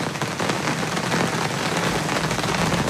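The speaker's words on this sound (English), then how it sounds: "When it rains, it sounds like I'm inside a drum." Heavy rain drumming on a roof, a dense, continuous patter that is loud and close throughout, with no voices over it.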